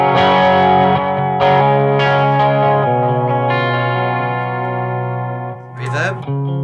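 Slightly distorted electric guitar notes ring out with a delay repeating each note, loud and close, sustaining and fading before a brief scrape at the end.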